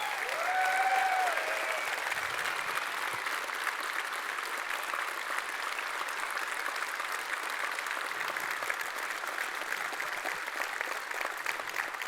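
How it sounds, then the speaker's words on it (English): A large audience at an EVE Online keynote claps steadily for several seconds, dense applause that stays even throughout and fades slightly toward the end. "And give them a great applause."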